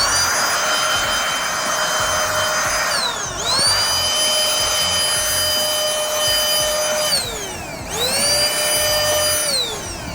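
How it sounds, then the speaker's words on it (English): A battery-powered Hurricane canless rechargeable air blower whines steadily at close range while cleaning dust off a graphics card, its pitch dropping and climbing again twice as the motor spools down and back up. "this is a Hurricane canless air system battery powered rechargeable air blower"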